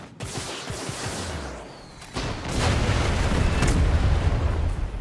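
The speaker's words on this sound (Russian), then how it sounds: "Да ладно, я танк уничтожил!" A tank blows up in the video game Far Cry 6: a broadband roar builds, with a sharp burst near the two-second mark, then a loud sustained rumbling blast that keeps going to the end.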